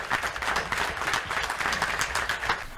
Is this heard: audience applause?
yes